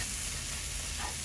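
Red amaranth greens frying with shrimp in a pan, giving a steady close sizzle and hiss that runs unbroken throughout, with no voices over it.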